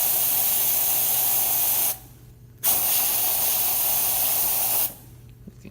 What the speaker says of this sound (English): let's test some of the other features like the steam.